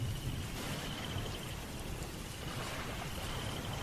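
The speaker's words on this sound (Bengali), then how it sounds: "প্রচণ্ড ঝড় বৃষ্টির মাঝেই" Heavy storm rain on a rainy night pours down as a steady, dense hiss, with a low rumbling wash underneath and no break throughout.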